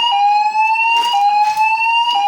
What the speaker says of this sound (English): Why is the siren going off? Because it's too hot.